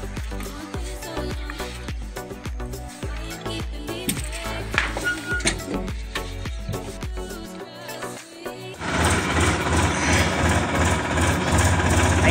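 A Massey Ferguson 7250 tractor's diesel engine catches abruptly and settles into a loud, steady, rumbling idle that carries on to the end, after a stretch of rhythmic, tonal sound with no speech.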